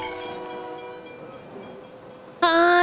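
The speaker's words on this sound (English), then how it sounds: "Hi, train." A steam train in the SteamWorld Build video game, heard as a steady rumbling run with tonal whine, then a loud, sudden bright whistle blast near the end.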